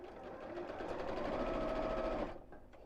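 A domestic sewing machine stitches a fabric water bottle carrier in one steady, loud, close whirring run of about two seconds, then stops abruptly.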